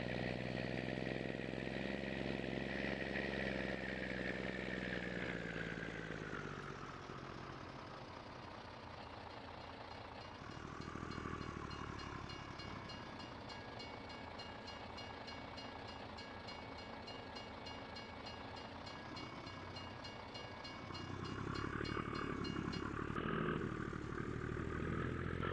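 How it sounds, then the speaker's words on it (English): A train rumbles past in Farming Simulator 22 on a big flat Texas map, a long continuous mechanical drone with shifting engine tones and a rhythmic clatter swelling and easing over about twenty-five seconds, with no talk. "Oh, train coming through."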